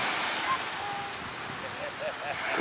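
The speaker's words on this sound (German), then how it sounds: "da haben wir vorhin schon ein paar höhere Wellen gehabt." Surf breaking along the coast at Águilas in Spain, a steady broadband wash of waves with wind noise on the microphone, fairly loud and continuous throughout.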